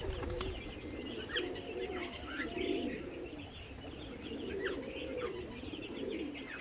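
Pet pigeons, including young birds just getting their wing feathers, coo continuously in a low rolling chorus with scattered higher chirps, close by and moderately soft, with no talk.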